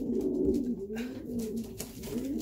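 Pigeons coo steadily in their loft, a low continuous burbling chorus from several birds close by, with no talk over it.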